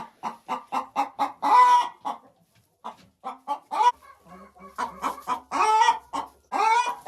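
A hen clucks repeatedly and close in a henhouse where hens are laying, in quick rhythmic bursts rising into louder squawking cackles, with a brief pause midway.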